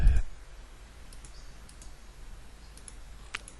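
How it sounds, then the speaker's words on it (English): Computer mouse clicks while working in GardenCAD garden design software: a few faint, sparse clicks after a brief thump at the start, over quiet room hiss. "I'll just scroll up and right click to finish"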